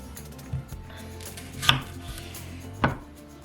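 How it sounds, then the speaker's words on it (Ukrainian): Knife chopping breakfast ingredients on a cutting board, a few separate sharp knocks spaced out, close and fairly clear with faint kitchen background. "Нам потрібно всі інгредієнти нарізати відразу"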